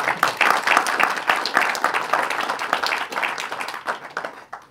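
An audience at a talk on security, mobility and efficiency claps steadily for the speaker, a dense crowd applause that holds strong, then thins and fades out toward the close.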